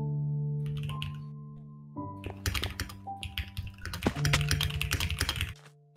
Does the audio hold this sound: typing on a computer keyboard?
yes